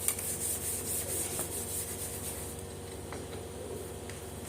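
A board is wiped clean of writing, a continuous soft rubbing scrape at low level throughout, with a few faint ticks and no talking.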